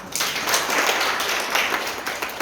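Classroom of students at a government bilingual high school clapping for a classmate's answer, a brisk burst of many hands close by, dense and fairly loud, fading slightly at the end.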